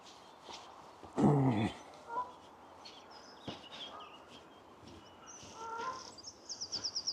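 A duck by a canal lets out a sudden loud honking quack burst, followed by quieter calls and a rapid run of chattering quacks near the end, with outdoor waterside ambience around it.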